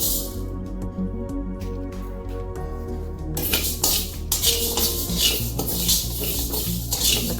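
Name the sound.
dry roasting toor dal stirred in a hot kadai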